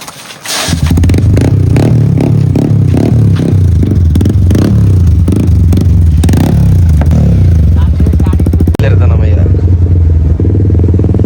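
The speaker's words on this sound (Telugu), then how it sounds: "ఇప్పుడు ఒక్కొన్నే నెట్టుకోవాలి, స్టార్ట్ చేసుకోవాలి బైక్ని." A motorcycle with a discharged battery being push-started: a loud, close engine sputters and chugs in uneven bursts over rattling and scraping, then settles into a rough idle.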